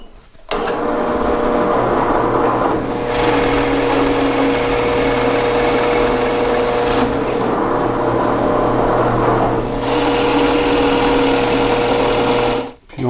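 Power drill fitted with a larger-diameter bit boring out a wide hole, a steady loud whirring drone with a pause near three seconds and again near ten before resuming, ending abruptly.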